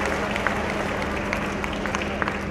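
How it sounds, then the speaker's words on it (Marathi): A crowd at a public gathering in Nagpur claps steadily, a dense, even wash of applause throughout. "त्याबद्दल एकदा जोरदार टाळ्या वाजवून आपण त्यांचं स्वागत करूया"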